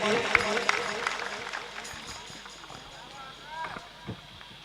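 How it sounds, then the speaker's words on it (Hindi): An audience at a school stage event applauds in scattered, uneven claps that thin out over a few seconds, under a busy background with faint voices. "तालियां बजाएं एक बार इनके लिए।"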